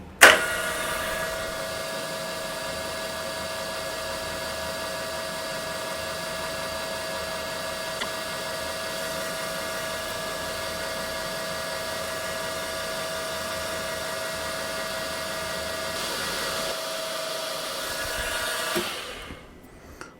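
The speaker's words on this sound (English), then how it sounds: "So now we just let the machine run and do our lapping, which is an endless up and down." A lapping machine runs steadily on hardened tool-steel bushings with diamond paste, a constant close mechanical whir with a tonal hum and an endless up-and-down motion, unbroken for about twenty seconds before stopping abruptly at the end.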